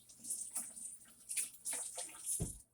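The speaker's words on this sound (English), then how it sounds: "Let me just wash my hands." Hands are washed under a running tap, with uneven splashing and trickling water and short bursts of rubbing, quiet and close.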